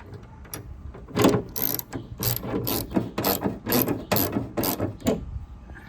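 A ratchet with a deep-well socket backs bolts out of the spoiler on a 2009 Ford Mustang, clicking in rapid repeated bursts for several seconds, close and fairly loud, with no talking.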